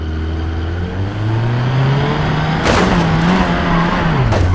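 A Hyundai Creta charges fast up a hill in the BeamNG driving game, its engine note climbing steadily before a sharp scrape and thump as the bumper catches, then the engine strains on, loud and close.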